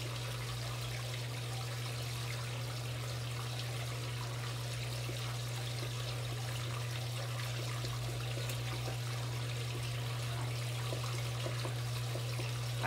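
Tap water runs steadily into a 1993 Brastemp Mondial rotary washing machine, a constant wash of flowing water over a low steady hum, with no talking.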